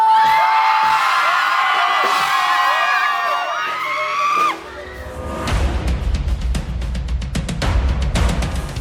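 Backstage crowd shouting and cheering loudly, with a sustained high vocal or tonal sound at first, then a dense burst of whoops and yells.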